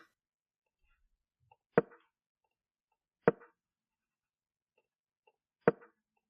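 Three sharp, isolated click-knocks from a JavaScript chess app's move sound, spaced a second or two apart in near silence.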